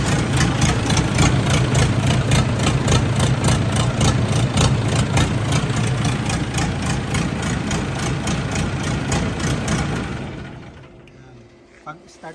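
The diesel engine of a model 4102 concrete pump idles loud and close with a steady low rumble and mechanical chatter, then winds down and stops near the end after being switched off at the panel board.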